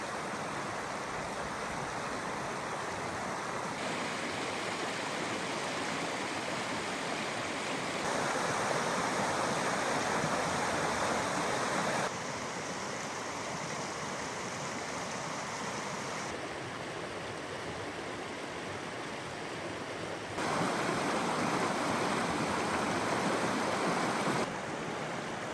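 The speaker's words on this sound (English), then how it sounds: "You got shoreline access to the East Fork Hood River." The East Fork Hood River flowing past a campsite in Nottingham Campground, Mount Hood National Forest: a steady, full rush of moving water that holds evenly throughout, with no voices.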